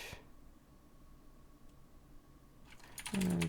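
Someone types terminal commands on a computer keyboard during a hacking session: light, quiet key clicks in a near-silent room, ending in a louder burst of rapid keystrokes, with no talk.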